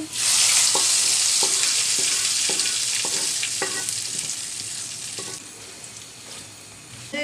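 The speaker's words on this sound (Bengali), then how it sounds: "এবার দিয়ে দিচ্ছি তিনটা শুকনা মরিচ এবার বাগারটা দিয়ে দিচ্ছি" Dried red chillies hit hot oil as a tempering for a Bengali beef kala bhuna, giving a loud, steady frying hiss that starts strong and slowly fades, with several spoon scrapes against the pan and no voices.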